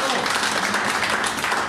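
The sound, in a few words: congregation applause in church service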